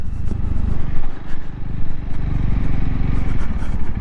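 Honda CRF300L dual-purpose motorcycle riding down a green lane, its engine thrumming steadily with a pulsing rumble and clattering over rough ground, loud and close.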